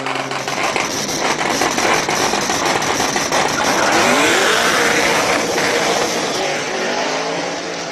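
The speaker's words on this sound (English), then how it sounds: "On the line now, we got a 350Z with the LS power" Nissan 350Z with an LS V8 swap charging up a hillclimb course, loud sustained engine roar with rising and falling revs through gear changes, heard fairly close with crowd-like background noise.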